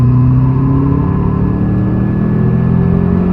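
Race car on a circuit accelerating as the driver gets back on the power out of a corner, a loud, steady engine drone with a low rumble and faint rising whine held throughout, no voices.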